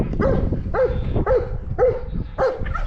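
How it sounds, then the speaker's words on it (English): A dog barks five times in a steady, evenly spaced rhythm, each bark loud and close, with no talk over it. "now she's going to be barking for the next 20 or 30 minutes"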